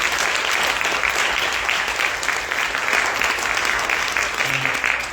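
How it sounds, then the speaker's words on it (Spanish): Steady, dense applause from a conference audience at a migration and human rights congress, honoring a doctor; the clapping stays loud and even across the whole stretch with no voices over it. "un aplauso al doctor Escalón"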